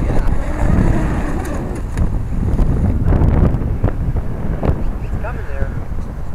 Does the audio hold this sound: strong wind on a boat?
yes